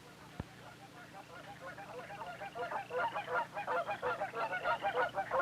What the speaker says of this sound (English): Thousands of wild geese come each fall to Southern Illinois